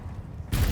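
Confringo spell blast in Hogwarts Legacy: after a quiet half-second of low ambience, a sudden loud burst hits and sustains as a broad, roaring explosive impact.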